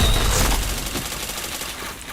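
Rapid burst of gunfire from a Point Blank shooter match, a dense crackling fusillade loudest at the start and tapering slightly, with no talking over it.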